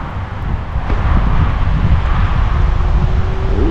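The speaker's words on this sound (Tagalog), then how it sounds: "Mahangin ah." Wind blowing into a helmet-mounted microphone during a scooter ride rushes as a steady, loud low roar that swells after the first second and stays constant.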